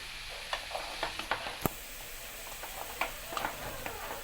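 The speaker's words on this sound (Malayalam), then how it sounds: "ഇനി ഈ കപ്പളങ്ങ നമ്മൾ ഇട്ടതിന് ശേഷം നന്നായിട്ട് ഇളക്കി കൊടുക്കുക" Chicken curry with raw papaya and turmeric is stirred in a pan, a soft continuous sizzle broken by light rhythmic scrapes and taps of the spoon, with one sharper knock near the start.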